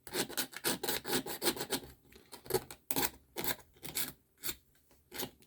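Ridges are filed off the edges of a 3D-printed plastic GoPro Hero 7 Black lens cap in quick rasping strokes, close and clear, first in a fast run of rubs, then in slower separate scrapes with short pauses.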